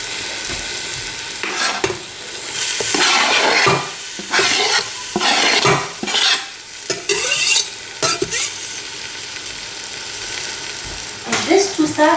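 Pieces of lamb leg with herbs browning in a hot pan over high heat, loud steady sizzling and frying broken by repeated stirring scrapes and clatters, close up with no talk.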